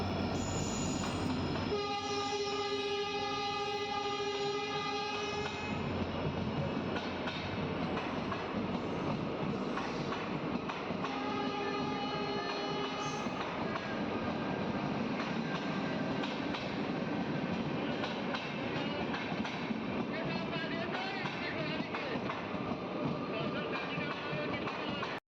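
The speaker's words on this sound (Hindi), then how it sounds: "धीमी रफ्तार से गुजरती हुई सीतापुर जंक्शन रेलवे स्टेशन को स्किप करती" A CRS special train rolls slowly through Sitapur Junction railway station in India, a long steady rumble with a loud horn blast near the start and another around the middle, heard from close by.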